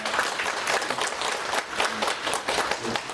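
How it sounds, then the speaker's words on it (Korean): A seminar audience applauds steadily as a business professor is welcomed, many hands clapping at moderate volume without a break. "여러분 큰 박수 부탁드립니다."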